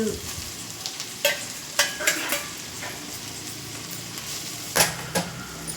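Chicken pieces, egg pieces and rice fry in a pan with a constant close sizzle, broken by a few sharp scrapes and clinks as the mix is stirred.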